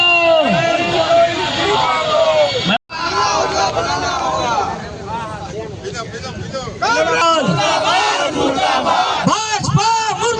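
A huge protest crowd at a road blockade in Ambikapur shouts slogans together, loud and continuous, with many overlapping voices chanting and bellowing in rhythmic bursts and a brief cut near the start.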